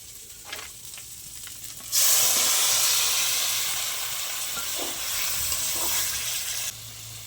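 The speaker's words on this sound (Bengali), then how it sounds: "এবার সিদ্ধ করে রাখা পুঁই শাক দিয়ে দেবো।" Boiled Malabar spinach drops into spices frying in a pan, setting off a sudden loud, sustained sizzle that fades a little and carries on with some stirring, close and steady before quieting near the end.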